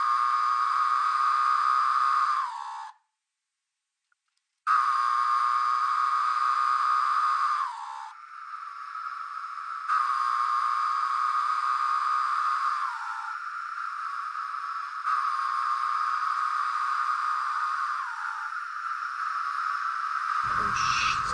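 Periodical cicada song layered into many voices forms a droning, buzzing chorus that plays in long sustained blocks broken by abrupt gaps and shifts, with a low thump at the very end.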